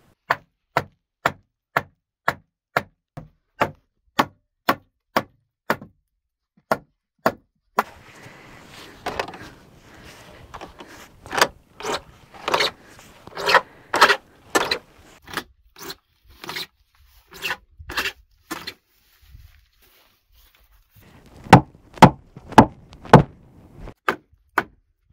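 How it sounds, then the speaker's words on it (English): Sharp wooden knocks as a door-style wood form frame is hammered loose, a steady run of loud, evenly spaced blows, then a stretch of scraping and rattling, and a final burst of quick hits. "Basically, what I'm gonna do is knock this frame out."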